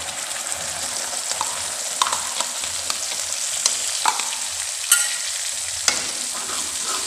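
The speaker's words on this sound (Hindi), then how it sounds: "अब हमने जो लहसुन और प्याज की जो प्यूरी बनाई है वो इसमें ऐड कर देंगे।" Garlic and onion puree hits hot oil with cumin seeds in a pan and sizzles steadily at close range, with occasional sharp scrapes and taps of a spoon stirring it.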